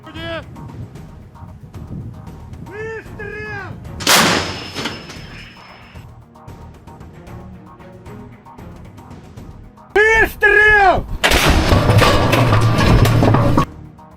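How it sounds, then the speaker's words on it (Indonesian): Russian artillery firing in Zaporozhye: sharp booming blasts ring out several times, with a loud sustained roar near the end, while people talk in the background between shots. "Pasukan artileri dengan cepat mengarahkan senjatanya ke sasaran dan menghancurkannya dengan tembakan cepat"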